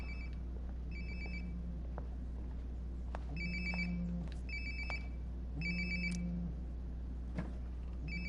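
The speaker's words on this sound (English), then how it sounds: "Sounds like my phone is definitely nearby." A phone rings in a bedroom in the video game Life is Strange: Before the Storm, giving repeated electronic double-trill bursts over a steady low background hum, with no talking.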